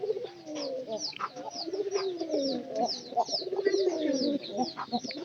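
Domestic pigeons coo close by in soft, repeated rolling calls, several birds overlapping continuously, with light wing flutters and chirps mixed in.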